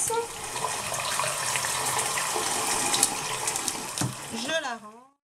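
Tap water runs steadily as a brush is rinsed under it, a loud, close, continuous splashing that stops abruptly near the end, followed by a brief tonal squeak as the faucet is shut off.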